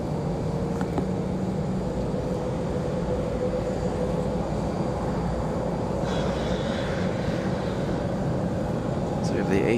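Airbus A321 jet engines spool up at Raleigh-Durham airport as a steady, broad roar that holds evenly throughout, heard from a distance with faint outdoor noise on top.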